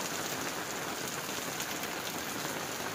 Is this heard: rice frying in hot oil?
no